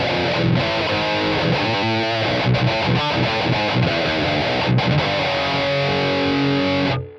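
A heavily distorted electric guitar through an amp plugin on an Old 30 setting plays a chugging riff with sustained chords, thick and saturated with scooped mids, loud and alone throughout.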